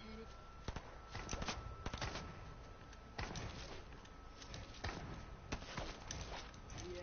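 Rapid bursts of gunfire in a video game crack out in clustered volleys with scattered thuds between them, while a person talks over the shooting.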